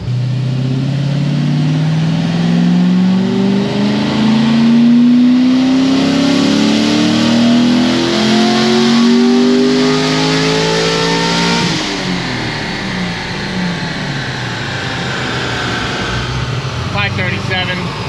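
A stage 4 Corvette C6 Z06 with about 6,000 miles roars on a dyno, its engine climbing steadily in pitch for around twelve seconds before lifting off and winding down, loud and close throughout.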